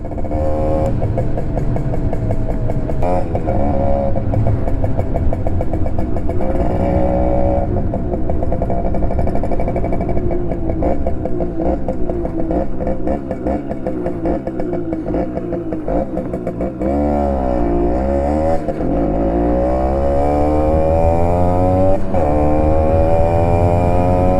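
Simson S51 moped engine in the Simrider riding game, a buzzy two-stroke drone that holds steady, dips and rises with gear changes and throttle, loud and continuous throughout.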